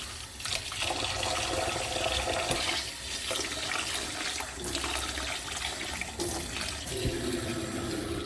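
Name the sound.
pot of rice filling with water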